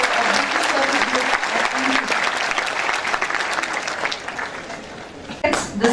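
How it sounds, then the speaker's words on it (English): A large audience applauds a company executive at a corporate program in an educational complex in Pune, with steady sustained clapping throughout that thins slightly before a few louder claps at the end. "May we have a huge round of applause for Mr. Toshimitsu Urabe"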